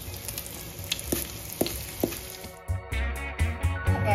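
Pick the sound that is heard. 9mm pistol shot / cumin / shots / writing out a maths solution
cumin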